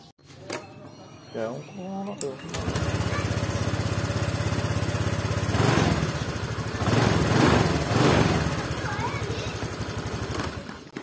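A small automatic scooter engine idles after a valve adjustment with a steady, slightly rough putter, loud and close, running continuously for several seconds.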